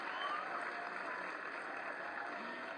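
An audience at an award ceremony honouring Paris 2024 Olympic and Paralympic medal winners claps, a soft, continuous wash of applause heard at a distance, steady and even throughout.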